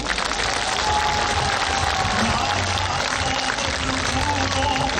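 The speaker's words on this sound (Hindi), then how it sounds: "एक जोरदार ताली मेरे साथ बजाएं।" Crowd at an outdoor political rally in Haripur claps together, a broad wash of many hands, steady and somewhat distant, with a faint murmur of voices underneath.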